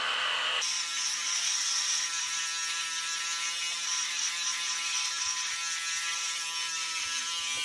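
Electric hair clippers with the adjustable head removed buzz steadily close by, a thin constant whir with a brief louder burst at the start as they trim along the back of the neck and behind the ear.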